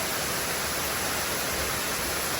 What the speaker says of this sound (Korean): 세찬 물줄기가 낙하하는 용추폭포를 구경하고 있다 보면 더위도 사그라듭니다